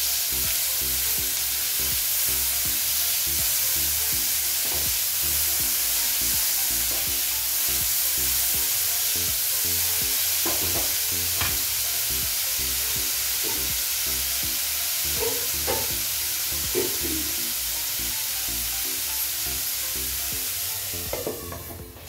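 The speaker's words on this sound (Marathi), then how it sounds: "टोमॅटो चांगला मऊ होईपर्यंत परतून घ्यायचं आपल्याला।" Tomatoes with a little salt sauté in a pan for a restaurant-style paneer matar curry, giving a steady close sizzle throughout with occasional spatula scrapes and stirring clinks, no talking.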